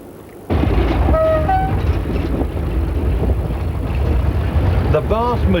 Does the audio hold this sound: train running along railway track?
yes